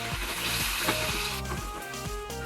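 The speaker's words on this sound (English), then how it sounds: "Let garlic and onion get a brown color" Garlic and onion fry in a tablespoon of cooking oil, giving a steady close sizzle with a layer of tonal background music over it.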